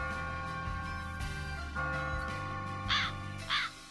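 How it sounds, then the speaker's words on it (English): A couple of crows caw in the Blue Archive video game, two harsh calls near the end over a steady musical backdrop, moderately loud. "There's a murder of crows too?"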